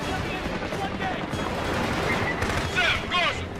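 Rocket launcher fire and explosions in the Killzone 2 video game, a dense, loud battle roar with shouted voices over the top.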